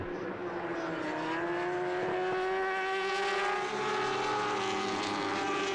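High-revving racing motorcycles in an FSBK superbike race at Magny-Cours, a sustained whining engine drone with rising and shifting tonal harmonics as the bikes pass at moderate distance, steady and continuous.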